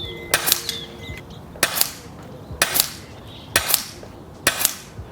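An air gun fires pellets with bent skirts: five sharp, evenly spaced shots roughly a second apart, each a crisp crack that fades quickly against a quiet background.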